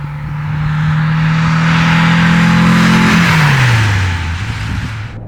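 A 1962 Porsche 356 B 2000 GS Carrera 2 with its Fuhrmann four-cam engine revs loud and close, holding a high steady pitch before dropping sharply back toward idle.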